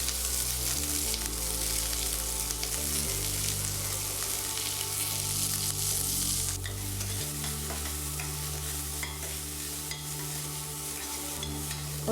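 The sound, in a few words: onion sautéing in a pan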